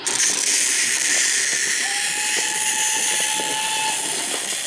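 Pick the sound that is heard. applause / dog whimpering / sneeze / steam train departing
steam train departing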